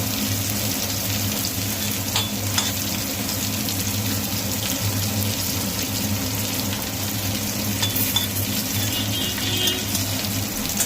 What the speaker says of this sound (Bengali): এই যে তেজপাতা ফোড়ন দিল, আর এই যে গোটা গরম মশলা, এটা ফোড়ন দিয়ে দেবে।